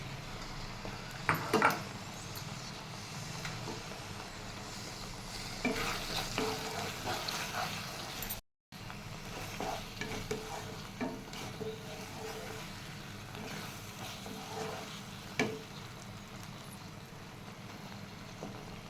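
Pre-fried scrambled eggs are stirred into a sizzling chilli egg mixture in a pan, a soft steady frying hiss with scattered spatula scrapes and taps, close and fairly quiet, with a brief cut midway.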